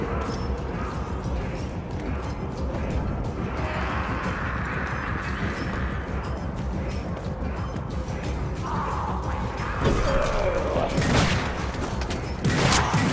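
Rapid rattling gunfire from a dwarf's rattling gun in Vermintide, a dense volley running under continuous game noise with sharper crashes near the end.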